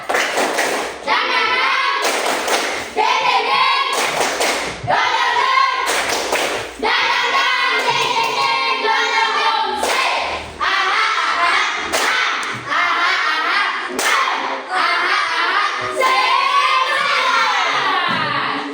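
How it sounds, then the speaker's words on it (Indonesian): A class of schoolchildren performs a rhythmic spirit clap, loud sharp clapping bursts in a patterned sequence alternating with children chanting together at close range. "Tepuk semangat dulu."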